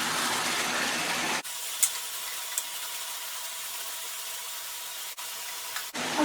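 Water splashing and hissing into a hot pan of spicy chicken biryani masala, a loud sizzling burst for about a second and a half, then quieter steady frying with two more brief sizzles near the end.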